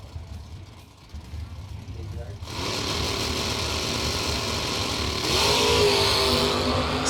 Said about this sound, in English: Wheels up launch for both drivers.